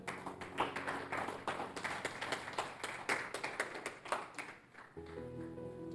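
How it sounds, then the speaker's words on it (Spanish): Church congregation clapping together during a sermon, a steady run of fairly quick, distinct claps from many hands, fairly soft and distant, with a sustained organ or keyboard tone underneath and a brief change in the music near the end. "Dale un aplauso a eso,"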